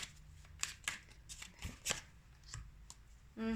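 Tarot cards are shuffled and drawn close by: quick papery riffles and snaps in uneven bursts, ending with a brief tonal sound.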